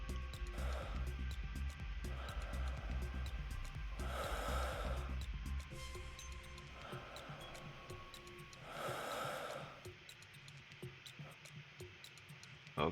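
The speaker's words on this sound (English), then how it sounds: "That one's breathing" An injured victim with bullet wounds breathes audibly in a journalist video game, with slow, repeated raspy inhales and exhales at close range, about five breaths spaced a couple of seconds apart over low background hum.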